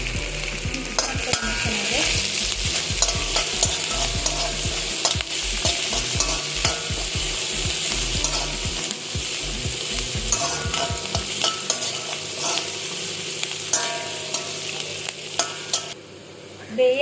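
Chopped onion with mustard seeds and curry leaves sizzles in a pan while a spoon scrapes and stirs in quick, irregular strokes; the frying hiss stays steady and close throughout, with the stirring easing off near the end.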